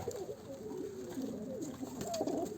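Pigeons coo steadily in a coop where squabs are being raised, soft rolling calls overlapping at close range and swelling near the end, with no talking.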